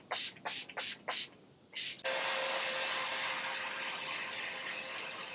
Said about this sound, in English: I'm going to apply more of this setting spray.